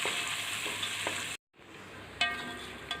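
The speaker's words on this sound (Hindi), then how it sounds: "प्याज को हमें फ्राई कर लेना है।" A medium-size onion sizzles steadily in a hot pan, a crackling hiss that cuts out briefly, then resumes with a couple of soft scraping clinks.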